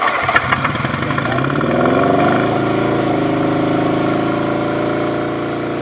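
A car engine with faulty spark plugs idles nearby in a rough, uneven chug that settles into a steadier, slightly uneven idle after a sputtering start, with no talk over it.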